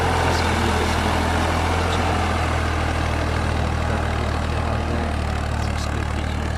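A tractor engine drones steadily while puddling a flooded paddy field before rice planting, a loud, continuous low rumble with no break.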